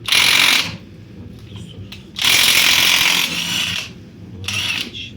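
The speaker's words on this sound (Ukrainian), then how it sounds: "Допустимо, я беру гайковерти, насадка на 27." Pneumatic impact wrench with a 27 mm socket undoing a bolt while replacing CV joint boots on a Skoda Octavia, giving three loud, harsh hammering bursts separated by short pauses.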